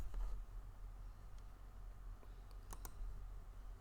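Close keyboard typing while writing HTML and JavaScript code, with scattered sharp key clicks, including a quick pair near the end, over a steady low hum and no voices.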